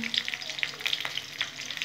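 Dried red chillies frying in oil in a pan, a steady close crackling sizzle with scattered sharp pops and spits throughout, no voices.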